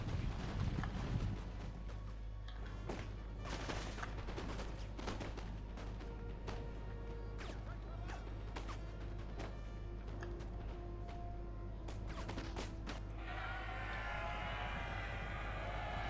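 Scattered musket volleys in the Napoleon Total War battle game, sharp cracks and distant booms popping irregularly over a low rumbling battlefield ambience, with a washy surge near the end.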